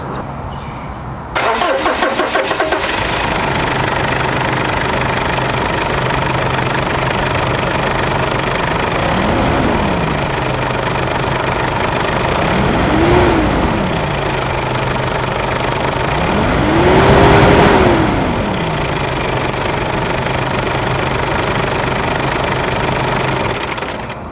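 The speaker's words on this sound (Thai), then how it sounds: "มาฟังเสียงเครื่องยนต์กัน" A Ford Everest four-cylinder SUV engine cranks and starts, settles into a steady idle, then revs three times, each rise higher and longer before dropping back to idle.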